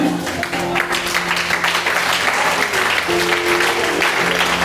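A church congregation claps steadily and loudly in sustained applause acclaiming Jesus, with voices mixed in under the clapping.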